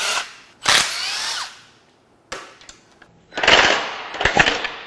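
A power tool unbolts the chain tensioners on a 2014-2019 Jeep/Dodge 3.0 Ecodiesel engine in loud, close bursts: a quick whir, a short zip, then a longer rattling buzz with brief stops.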